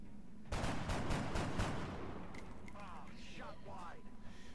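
A rapid string of five or six loud gunshots cracks out from a weapon in the turn-based strategy game XCOM: Enemy Unknown, then stops. Quieter electronic tones and a voice follow.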